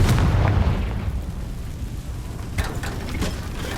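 A Confringo blasting spell goes off in the Hogwarts Legacy video game, with a deep, loud boom at the start that rumbles and fades, then a second burst of crackling debris near the end.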